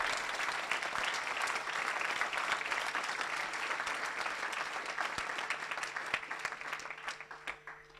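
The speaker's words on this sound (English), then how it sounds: "Been really massive round of applause." A conference audience gives a sustained round of clapping, thick and even for most of the stretch before thinning and fading toward the end.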